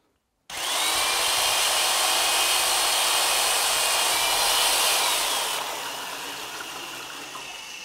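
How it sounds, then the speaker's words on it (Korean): A power drill fitted with a mixer stirs a bucket of ceramic glaze slurry for a moon jar, starting abruptly and whirring loudly and steadily, its pitch dropping a little as it runs on. "드릴로 저어서 그 농도를 유효적절하게 잘 맞추셔야 두껍지도 않고 얇지도 않고"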